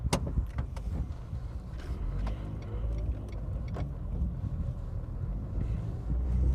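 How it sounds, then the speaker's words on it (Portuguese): A 2018 Nissan March 1.6 automatic being driven, with steady low road and engine rumble, wind buffeting and a few brief rattles and clicks throughout, no talk. "vamos levar o carro para dar uma volta e ver como ele se comporta"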